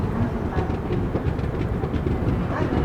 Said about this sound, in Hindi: चलिए निकल गई ट्रेन अपनी पेड़ापल्ली जंक्शन से।